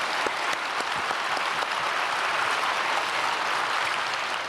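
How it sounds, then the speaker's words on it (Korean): A church congregation at a Sunday worship service applauds with sustained, dense clapping from a large crowd that holds steady throughout, with no voices over it. "크게 박수로 감사드리고 축복하겠습니다"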